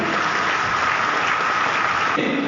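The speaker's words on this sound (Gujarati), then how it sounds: "એવા સંતોને તાળીઓથી વધાવી" An audience applauds to welcome the saints at a BAPS discourse, a continuous, even wash of many hands clapping that carries on steadily and then starts to fade near the end.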